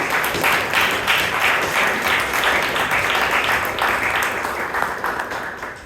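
Audience applause at a Bangalore Toastmasters club meeting: dense, sustained clapping from a roomful of people, steady and fairly loud throughout before thinning slightly at the end.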